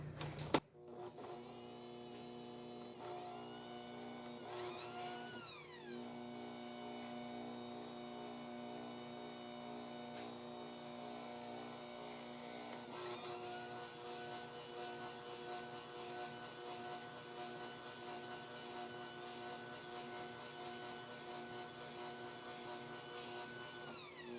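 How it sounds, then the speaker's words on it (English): An electric mixer beating cake batter runs as a steady, fairly quiet motor whine, with pitch shifts around five and thirteen seconds as the beaters move or the speed changes. No one speaks. "drop your beater again, mix that up till you have a nice cake batter"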